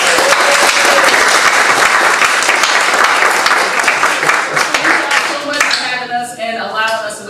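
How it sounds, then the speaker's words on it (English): Loud, sustained applause from the audience at an open mic poetry night at the Mobile Museum of Art, with dense clapping that thins out toward the end as a voice begins speaking. "can we clap for the Mobile Museum of Art?"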